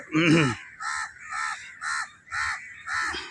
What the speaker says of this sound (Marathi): या कावळ्याला आंघोळ करायची आहे, पण तो सगळ्यांना बोलवत आहे, चला रे आंघोळीला